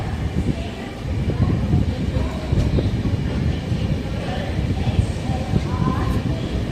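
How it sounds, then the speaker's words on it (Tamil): Express mail train pulling out of Tiruppur railway station, a steady loud rumble of wheels and carriage noise throughout, with faint clicks and rattles on top and a voice talking briefly over it. "திருப்பூர் ரயில்வே ஸ்டேஷனில் டிபார்ட் ஆகிட்டோம்."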